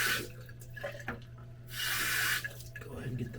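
Tap water runs into a bathroom sink, a steady splashing hiss that swells and eases as hands cup it to wet the face before a shave.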